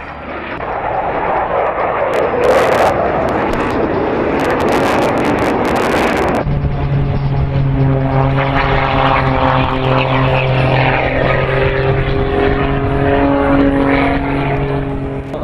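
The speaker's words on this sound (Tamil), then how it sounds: "விமான கண்காட்சியை ஒட்டி பல விமான தயாரிப்பு நிறுவனங்களின் சார்பில் விமான சாகச நிகழ்ச்சிகளும் நடைபெற்றன." A propeller aircraft flies aerobatic stunts at an air show, its engine a loud, steady droning whine that rises and shifts in pitch as it passes, with wind buffeting the microphone.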